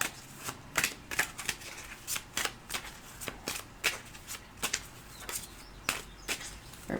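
A deck of Romance Angel oracle cards is shuffled by hand, giving a steady run of soft, close riffling snaps at an even rhythm with no voices.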